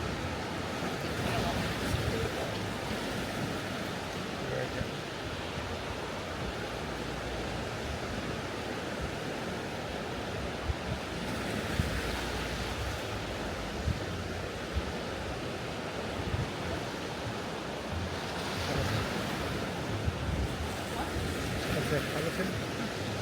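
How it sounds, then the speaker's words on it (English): Ocean waves wash onto a beach at sunrise in Tulum, a steady broadband rush of surf with slow swells of louder breaking roughly every eight seconds, mixed with some wind, no talking. "I just listen to the waves."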